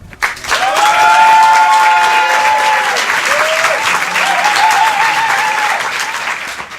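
Loud, steady applause from an audience at a French comedy show for a performer's entrance, sustained for several seconds with bright tonal music playing over the clapping.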